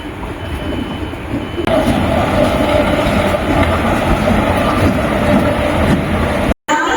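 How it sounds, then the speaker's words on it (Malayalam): The Amritha Express from Rameswaram to Trivandrum pulls into a station at night, a loud continuous roar of wheels and carriages passing close by, with a brief cut near the end. "രാമേശ്വരത്ത് നിന്ന് ട്രിവാൻഡ്രം പോകുന്ന അമൃതയാണ് ദേ വരുന്നത്"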